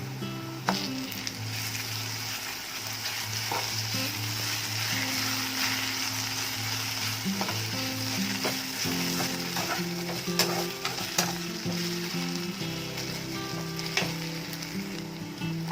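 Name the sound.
green chilli and ginger garlic paste frying in pan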